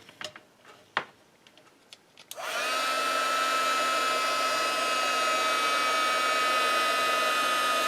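An embossing heat tool blows steadily on glaze powder for crafting, starting after a few faint handling taps and then holding a loud, constant hairdryer-like whir to the end.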